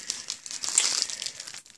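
Crisp, close crinkling of a sheet of paper, a piece of mail dropped through a letterbox, being handled and crumpled in a continuous rustle lasting about two seconds, with no talking.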